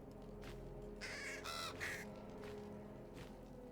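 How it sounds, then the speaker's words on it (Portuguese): A raven caws in the video game Baldur's Gate 3, a short cluster of harsh, rasping calls midway through, set over a steady, low ambient hum. "por que eu não entendi o corvo?"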